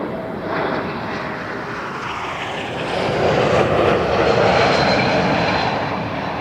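A fixed-wing airliner takes off at Toronto Pearson Airport, its engines giving a sustained, broad roar that grows louder midway and holds steady. The sound is heard from a moderate distance, with no talk over it.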